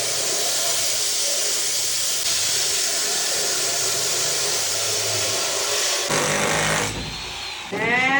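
A power tool cuts bathroom tile for a common bathroom being converted to attached, a loud steady grinding whine running continuously for several seconds before shifting pitch near the end.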